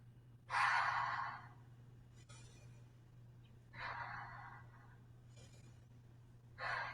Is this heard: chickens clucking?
no